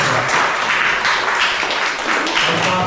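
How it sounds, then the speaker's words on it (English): Students at a police youth club public speaking competition receive a round of clapping from the audience, a continuous, fairly loud wash of many hands with no talk over it. "Can you give yourself another round of applause?"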